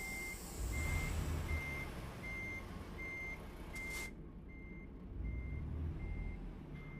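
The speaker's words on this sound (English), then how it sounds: "that reverse beeper is super loud" Truck reverse beeper in the American Truck Simulator game, sounding as a steady run of evenly spaced electronic beeps over a low diesel engine rumble, with a brief hiss of air brakes midway.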